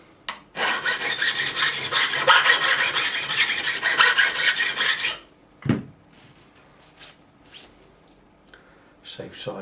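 A file rasps back and forth in a steady rhythmic stroke across guitar frets during a Fender Stratocaster refret, loud and close for about five seconds, followed by a few scattered knocks and handling noises.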